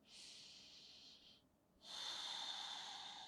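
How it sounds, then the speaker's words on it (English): Slow, steady breathing during a stretching session for the feet, calves and hamstrings on massage balls: one long airy breath, a short pause, then a second, louder one. Close and soft, with no talking. "take a couple breaths just still"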